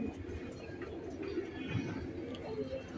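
Racing pigeons from a good breeding line, a pair including a hen raced from Bogura, coo in a low continuous murmur amid steady background noise, with no clear gaps between calls.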